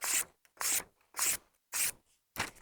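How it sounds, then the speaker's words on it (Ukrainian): A Peltonen M23 Ranger Cub knife slices through ordinary paper in five quick, crisp swishing cuts at an even rhythm, each separated by short silence, recorded up close with no talking. "Як завжди, перевірю заводське загострення на звичайному папері."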